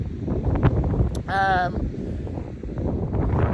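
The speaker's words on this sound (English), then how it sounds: "But here, yeah, it's windy, proper windy." Strong wind on a beach buffets the microphone with a constant rumbling roar, while a person speaks and a short high whistle rises briefly.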